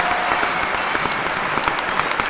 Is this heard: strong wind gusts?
no